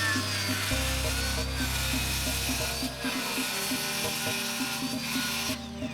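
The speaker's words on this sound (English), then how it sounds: "let's go ahead and get started with the circular saw, cutting this down to size." A circular saw runs through a sheet of plywood being cut to size for a 30-degree climbing wall, a loud steady whine that holds for about three seconds before the motor winds down, with no talk over it.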